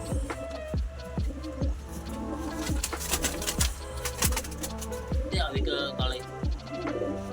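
Pigeons coo softly among a busy background of rhythmic beats and voices, the cooing steady throughout.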